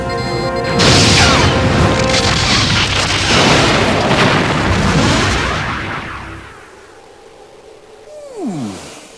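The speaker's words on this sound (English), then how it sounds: "The Borg cube is firing." A Borg cube fires its weapons in the Star Trek: Borg video game, with loud booming blasts and rumbling explosions that roll on for several seconds, then fade into a lower mechanical drone with a falling synthetic sweep.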